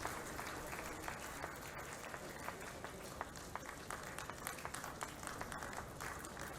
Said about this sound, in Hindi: स्वयमेव तालियां बजाएंगे